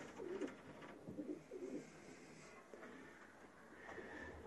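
Pigeons in a loft give soft, low repeated coos, several overlapping calls early on, then quieter murmuring, faint and close in a still room.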